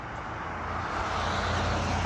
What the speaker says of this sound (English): how y'all hear this car right here accelerating behind me